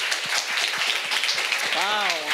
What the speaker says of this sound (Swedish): Vi ger dem en stor varm applåd.